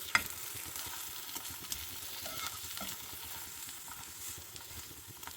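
Food frying in desi ghee in a pan gives a steady, soft sizzle with faint crackles throughout, quiet and close, with no talking.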